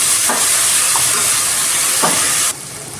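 Two large chopped tomatoes are sautéed in a pot, a loud steady hissing sizzle close by with a few soft stirring knocks, dropping sharply in level near the end.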